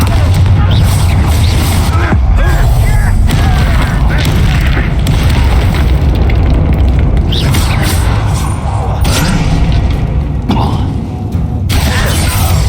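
A Confringo fire spell explodes in the video game Hogwarts Legacy, a loud burst of booms and crackling blasts layered under game music and spoken voices, with rumbling debris continuing throughout.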